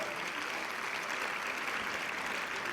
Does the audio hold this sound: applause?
yes